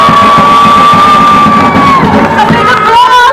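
A loud crowd at a 2014 immigration reform and citizenship rally cheers, whoops and claps in a continuous roar, with a thin, sustained whistle-like tone running through it.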